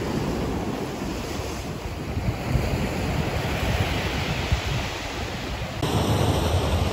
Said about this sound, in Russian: Видите, вот такое волнение сегодня идет.